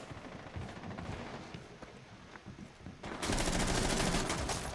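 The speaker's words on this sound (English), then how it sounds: "They're shooting out this window." Gunfire in Rainbow Six Siege is aimed through a window during a house team deathmatch. Scattered muffled shots are followed by a loud, sustained burst of rapid fire near the end.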